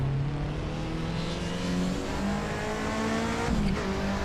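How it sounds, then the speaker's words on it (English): A Mercedes race car engine in a sim racing game screams at high revs, a steady sustained whine with pitch dips and shifts, loud and continuous throughout. "Listen to that Merc scream."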